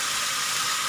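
Kefta, minced meat, sizzling as it browns in a hot pan: a steady, bright, hissing crackle that stays even and close for about a second, with no talking.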